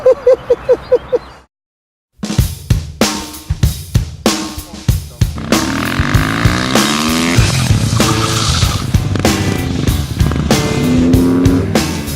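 KTM 450 supermoto motorcycles ridden hard around a circuit at Villars-sous-Écots, with engines revving through repeated throttle bursts and gear changes, then sustained loud engine roar with tire skidding and sliding on the track.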